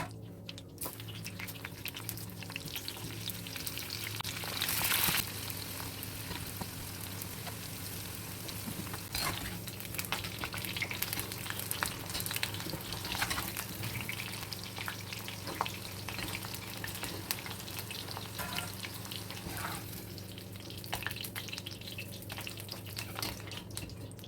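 Bitter gourd pieces deep-fry in hot oil, giving a continuous close sizzle and bubbling crackle with occasional louder pops and stirring sounds, no talk.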